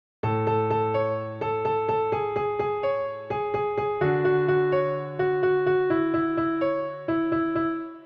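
A piano pattern programmed in the FL Studio Mobile piano roll for a progressive house track plays alone, with evenly spaced chords in repeating bars, each bar opening on a sustained low note under bright, clean, rhythmic stabs.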